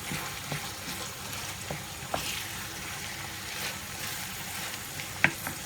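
A pan of içli köfte filling roasts with a steady, moderate sizzle, and occasional soft clicks of a spoon stirring through it.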